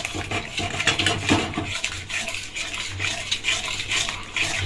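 A utensil stirs yogurt into spice masala in a pan for fish curry, giving repeated scraping and clinking strokes over a soft low sizzle, close and irregular, with no voices.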